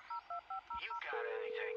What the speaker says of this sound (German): Komm, ich tu mal die Jessie anrufen.